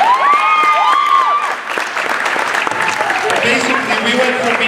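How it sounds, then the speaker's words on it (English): An audience at a school senior night ceremony gives loud, close applause mixed with cheering and high whoops, a crowd clapping steadily under shouts and chatter. "a round of applause for that"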